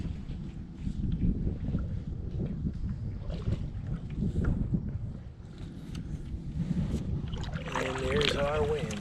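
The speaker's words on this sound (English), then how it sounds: "And there's our wind." Steady wind rushes across the microphone outdoors near a kayak ramp in the mangroves, a continuous low roar with gusty swells and faint background movement, and no voices.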